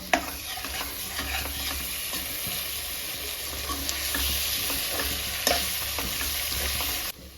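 Turmeric, chili, cumin and coriander powders are mixed in a frying pan for a crab and potato curry, with a steady close sizzle and ongoing stirring scrapes.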